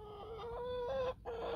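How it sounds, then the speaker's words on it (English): Chicken clucking close by, a steady run of short tonal clucks that rise and fall for a couple of seconds with a brief gap near the end, then resume. "that's my chicken, Petunia, this great old wicker basket."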